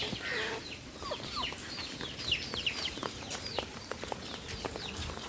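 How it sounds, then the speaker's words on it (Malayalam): Chickens, one of them newly arrived, cluck repeatedly on a small farm, giving many overlapping short clucks and chirps at close to moderate distance over steady outdoor background noise. "ഈ കാണുന്നത് അത് പുതിയ കോഴിയാണ്"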